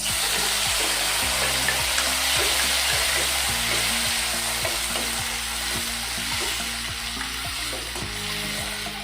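Tomatoes and chillies fry with garlic for a chutney, giving a loud, continuous close sizzle with steady stirring scrapes throughout and no talking.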